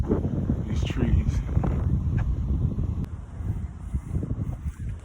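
Outdoor wind gusting through tree tops, a steady broadband rush with some buffeting against the microphone, moderately loud and continuous throughout.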